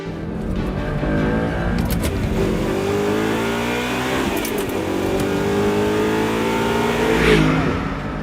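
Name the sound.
Audi R8 V8 engine revving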